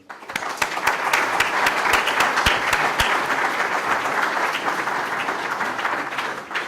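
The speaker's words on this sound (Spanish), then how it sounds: "os pediría un aplauso para todos ellos" Steady applause from an audience at a public-sector conference day, many hands clapping densely and evenly for guests, sustained without pause.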